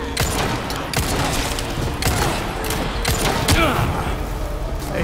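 Rapid gunfire from enemies in Resident Evil 4, a dense continuous spray of overlapping shots and thuds with heavy game ambience throughout, close and loud.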